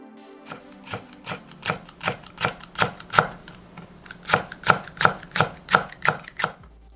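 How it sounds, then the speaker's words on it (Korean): A knife slices a green chili pepper on a cutting board, giving about fifteen crisp, evenly spaced chops in two runs with a short pause between them, close and clear with no talking. "그 다음 청고추 1개는 슬라이스해서"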